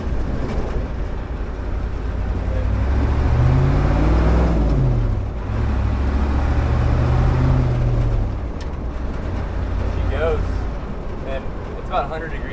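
A diesel-swapped 1967 Ford Highboy pickup pulling in second gear, a loud, steady low engine drone that rises and falls with throttle, heard from inside the cab while people talk over it.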